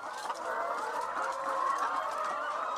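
Chickens packed in a transport box at a poultry dealer's, giving a steady, dense chorus of clucking and squawking that fills the whole stretch at moderate loudness, with no talk over it.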